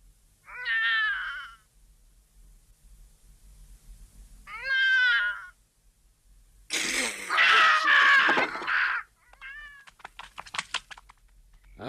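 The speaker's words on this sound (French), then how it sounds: "c'était le chat." A cat meows twice in short, separate calls, then lets out a longer, louder, strained yowl, followed by a few softer clicks and a faint trailing mew, all alone with no talk.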